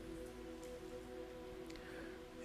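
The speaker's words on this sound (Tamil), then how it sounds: "நீங்கள் அமைதியாகும் போது தான் வெளியே மழை பெய்கிற சத்தமே உள்ள வருது" Rain falls outside and is heard faintly from indoors during a quiet pause in a Christian church service. It is a steady, soft hiss over a low hum, with no talking.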